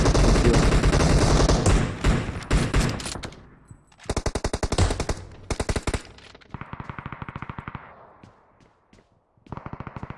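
Rapid automatic gunfire in the mobile battle-royale game PUBG Mobile comes in loud, close bursts of dense shots separated by short pauses, with several sustained volleys across the clip.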